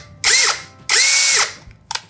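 A Dongcheng DCJZ2060i brushless hammer drill runs on a battery in two smooth, loud whirring bursts that spin up and wind down, followed by a brief third blip.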